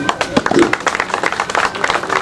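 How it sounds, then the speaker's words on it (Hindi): Scattered clapping from a crowd at a police passing-out parade ceremony, irregular claps under a speaking voice over the loudspeaker. "एक जोरदार तालियां"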